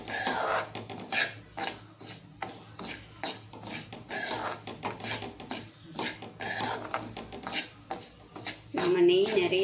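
Rava roasting in plenty of ghee in a pan for kesari, stirred with steady, rhythmic scraping and rasping strokes against the metal, close and continuous with no talk.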